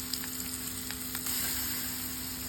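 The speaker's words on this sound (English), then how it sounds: "Along with that, we're going to add green chili and onions and curry leaves." Green chili, onions and curry leaves sizzle in hot oil with turmeric and hing, a soft steady crackle with faint stirring, quiet and close, with no voices.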